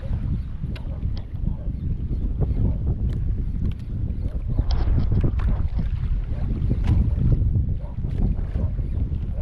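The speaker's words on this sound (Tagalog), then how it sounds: "Medyo mahangin" Wind blowing hard at sea around a small boat, a loud continuous low rumble of gusts buffeting the microphone with some water and hull noise, close and without talking.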